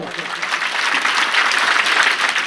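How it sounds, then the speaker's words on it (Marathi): An audience at a public lecture hosted by a Ganesh festival group claps steadily and loudly, a dense, continuous wash of applause that holds for a couple of seconds. "एकदा आपण सगळ्यांनी या शिवस्वराज्य गणेश मित्र मंडळासाठी जोरात टाळ्या वाजवा"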